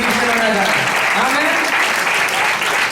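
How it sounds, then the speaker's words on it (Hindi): A church congregation applauds in a loud, sustained roar of clapping, with a voice talking and calling over it throughout. "भाई को के लिए तालियां होनी चाहिए"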